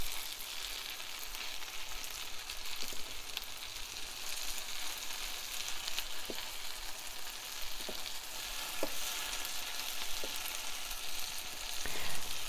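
Tudor-style parsnip cakes fry in a pan with a steady, soft sizzle, broken by faint occasional pops and crackles throughout.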